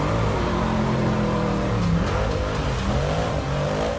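The Batmobile's rally-car-style engine revs loudly and continuously with a deep, roaring drone and swelling throttle pulses, close and alone with no talk.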